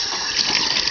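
Water from a sink tap sprays steadily and loudly while a puppy is bathed in the sink, a constant close hiss with no talk.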